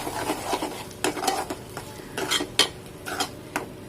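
A spoon scrapes and clinks against a pan while a spice paste sizzles in oil, with irregular stirring strokes close up and no talking.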